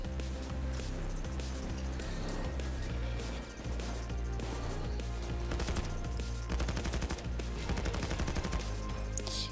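Rapid bursts of automatic gunfire in a video game rattle out repeatedly, some long sustained volleys and some short clusters, fairly loud and dense throughout with no one talking.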